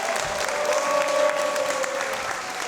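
A television show audience claps together in steady, moderately loud applause that holds at an even level from start to finish.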